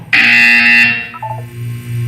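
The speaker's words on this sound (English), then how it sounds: "You will hear a buzzer." A loud electronic buzzer from the test chamber announcer in the video game Portal 2, one sustained harsh tone lasting under a second, followed by a short series of lower electronic tones and a fading hum.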